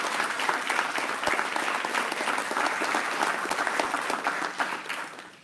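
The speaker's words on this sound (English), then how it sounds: "can we give these scholar athletes, coaches, and parents a round of applause?" A school board meeting audience claps for scholar athletes, coaches and parents, a steady, moderately distant round of applause lasting about five seconds before tapering off.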